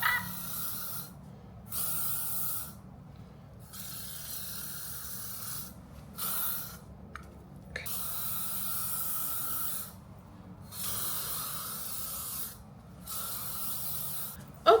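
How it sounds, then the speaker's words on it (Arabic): Hair spray is sprayed onto hair styled into heatless waves, with about seven separate hissing bursts of varying length spread across a quiet room. "الهير سبراي طبعا، هير سبراي"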